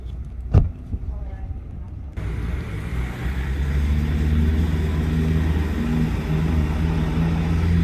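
A Toyota Supra's engine rumbles on a street in Japan, a steady low drone rising and holding loud after a brief quieter start, with a person speaking briefly at the beginning.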